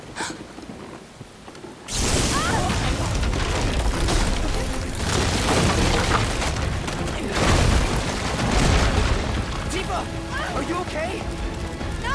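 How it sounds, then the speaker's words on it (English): A lightning bolt smashes into a bridge in Final Fantasy VII Rebirth, a sudden loud booming crash after a quiet moment, followed by sustained rumbling destruction with voices talking over it. "It wasn't the bridge that failed, it was the lightning bolt that crushed it."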